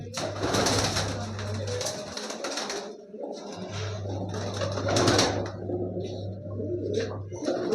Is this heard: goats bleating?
no